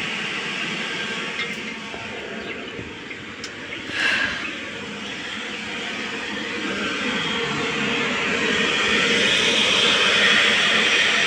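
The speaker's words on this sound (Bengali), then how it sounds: "ফ্যানের শব্দ হয়।" A steady, loud whooshing roar of a large fan in tower equipment running without pause, swelling slightly toward the end, with no voices.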